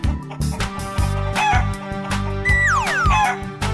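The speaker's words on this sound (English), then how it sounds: "chicken." Cartoon chicken clucks and rising squawks over a loud, bouncy children's music track with a steady beat, with no talking.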